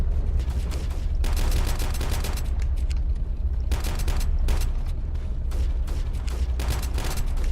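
Sustained bursts of rapid video game gunfire, loud and near, several volleys of automatic fire with short pauses between them and no talking.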